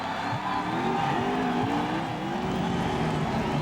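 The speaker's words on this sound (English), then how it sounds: "Look at Harvick sliding sideways." NASCAR Xfinity Series stock cars race hard at Circuit Gilles Villeneuve, one sliding sideways through a corner, their engines a loud continuous roar with rising and falling pitch and a hint of tire squeal throughout.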